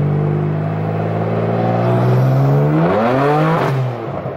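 A tuned 550 HP M4 accelerates hard in third gear with no traction, its engine roaring loudly as the revs climb steeply while the tires spin, then the sound eases off at the end.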